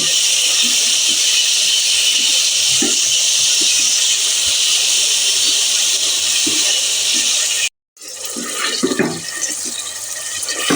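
Beef keema hits a hot pot with a loud, sustained sizzle, a strong hissing roar that briefly drops out and then resumes with crackling pops.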